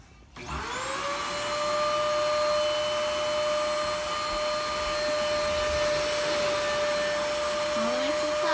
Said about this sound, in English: Alright, let's vacuum the carpet.